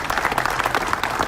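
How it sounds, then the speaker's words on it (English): Steady applause from an audience at a ribbon cutting and grand opening of an arts center, continuous dense clapping with no pauses across the whole stretch. "Keep the applause going for our former First Lady"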